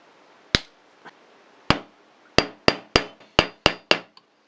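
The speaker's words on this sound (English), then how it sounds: "And this has now been riveted completely." Hammer blows riveting a silver buckle base over a steel block, countersunk rivet holes being mushroomed over: sharp metallic taps, one, then another, then a quick run of six, close and distinct against quiet.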